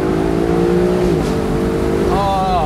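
A 2024 Lexus LC500's engine accelerating, loud and close from inside the car, with a strong droning tone that rises, dips at a gear change, then climbs again.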